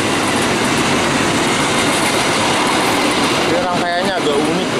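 An Argo Cirebon passenger train passes close by in a loud, steady rush of rolling wheels and carriage noise, with a brief squealing wheel tone near the end.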